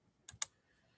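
Two quick, faint keystrokes on a computer keyboard while entering an inverse cosine into the Desmos calculator, crisp clicks in a quiet room.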